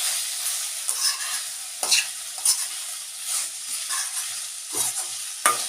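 Cauliflower florets stirred into a milk-based curry in a pan, a soft steady sizzle under intermittent scraping strokes of a spoon, with no talking.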